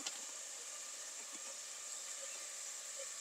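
A soft, steady sizzle of onions and carrots sautéing in a pan, a continuous quiet hiss with faint crackles and no voices.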